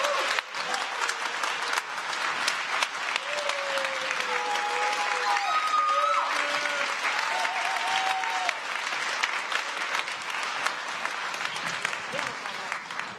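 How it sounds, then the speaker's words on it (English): An audience applauds at a startup competition, sustained crowd clapping that fills the whole stretch while a presenter's voice and a few brief tones sound over it. "please make a huge round of applause for Word Dive."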